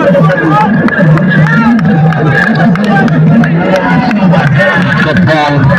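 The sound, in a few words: crowd at Padibal Premier League grand final cricket match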